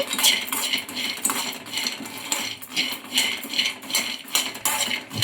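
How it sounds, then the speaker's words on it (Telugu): Peanuts are stirred while dry-roasting in a kadai over low flame, giving a steady rattling and scraping of nuts and spoon against metal with regular stirring strokes, close and fairly loud, with no talking. "ఇంకా పల్లీలను ఇలా కలుపుతూ ఫ్రై చేసుకోవాలి."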